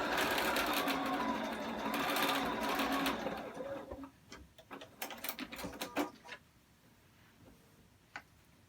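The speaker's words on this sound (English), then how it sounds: "On the opposite side, I'm just going to sew all the way down." A sewing machine runs steadily for about three seconds stitching down the side of a fabric face mask, then stops and gives way to scattered clicks and handling taps.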